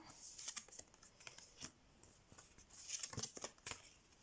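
Tarot cards being laid out and turned over on a table, a run of soft, close slaps and swishes in short irregular bursts, quiet and with no talk.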